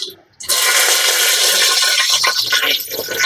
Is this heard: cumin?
yes